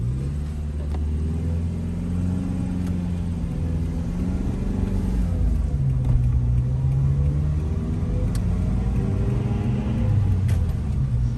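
Manual-transmission car driving in first gear up a steep hill, with a steady low engine rumble whose pitch rises and falls as the revs change, heard from inside the cabin.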